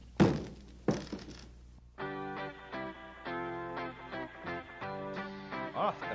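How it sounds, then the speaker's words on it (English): A falling-tree sound effect opens a 1987 UNC student TV broadcast. Two heavy cracking thuds land in the first second, and then a musical theme comes in and carries on. "At the sound of the falling tree,"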